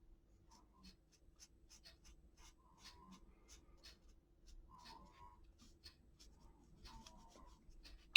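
A water-based marker drawn across difficult, grainy paper, giving soft, faint scratchy strokes in short repeated bursts, close up and quiet.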